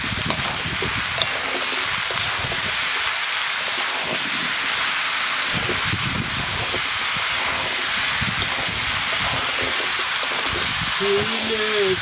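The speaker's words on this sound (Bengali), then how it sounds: "মশলা কষানো হয়ে গেছে, এখন লাউ দিয়ে দেবো।" Chopped bottle gourd (lauki) hits hot fried spices in a pan, setting off a loud, continuous sizzling hiss that stays steady throughout, with a few faint clinks near the end.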